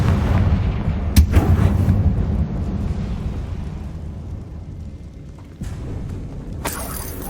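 Heavy booming blasts from Confringo and Bombarda spells in Hogwarts Legacy, deep rumbling explosions with sharp cracks, one strong hit early, a lingering roar, then another burst near the end.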